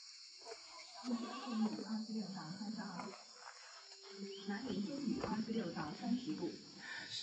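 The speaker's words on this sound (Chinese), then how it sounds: "小羊羔。" A lamb bleats near a remote mountain farmhouse, giving several faint, wavering calls spread across the stretch against quiet rural background noise.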